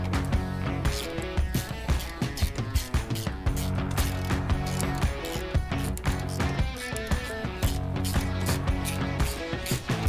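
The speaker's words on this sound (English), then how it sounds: "now we'll go ahead and install these two lower bolts to the mount." Lower bolts being driven into a DRT front grill mount on a Polaris RZR Pro R, with rapid ratcheting clicks and metallic rattling, loud and close, continuing steadily throughout.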